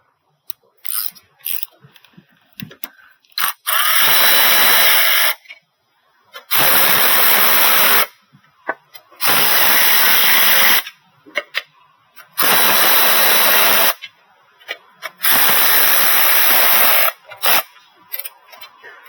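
An impact wrench works the valve cover bolts on a 2003 Honda in loud, sustained bursts of a few seconds each, about five runs separated by pauses with small clicks and handling noises, close to the listener.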